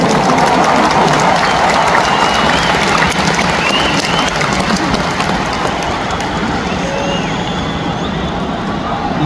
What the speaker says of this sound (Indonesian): Tepuk tangan dulu yang meriah untuk Gus Muhaimin.